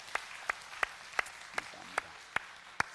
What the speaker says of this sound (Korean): 우리 수고하는 모든 헌신자들 한번 박수로 격려하겠습니다.